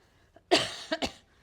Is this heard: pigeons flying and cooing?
no